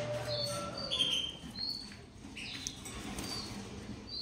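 Breeding songbirds kept for sale chirp and tweet in short bright bursts with some wing flapping, close and fairly loud, over a low steady background hum.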